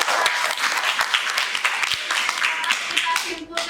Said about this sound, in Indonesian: Oke, tepuk tangan untuk